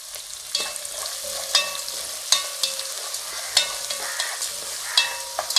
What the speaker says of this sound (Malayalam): ഇതിലേക്ക് ഇനി നമ്മൾ ഇടുന്നത് നമ്മുടെ സവോളയാണ്. 1 സവോള ചെറുതാക്കി അരിഞ്ഞു വെച്ചിരിക്കുന്നതാണ്.